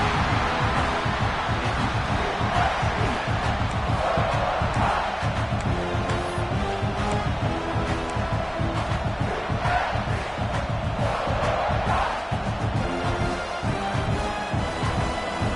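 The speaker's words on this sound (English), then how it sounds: "here comes the noise. This crowd is trying to inspire this defense to make a big red zone stop" A packed stadium crowd roars steadily during a football red zone play, trying to rally the home defense. The noise is loud and continuous, like a wall of sound, with shouting surges rising and falling throughout.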